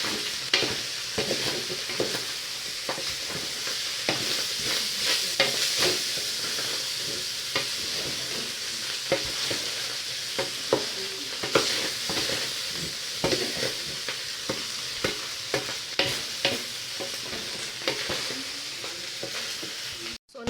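Fish fried rice stirred in a hot pan: loud continuous sizzling with repeated scraping and tossing strokes of a utensil, close up and without speech.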